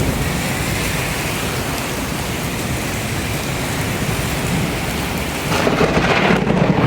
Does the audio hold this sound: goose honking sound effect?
no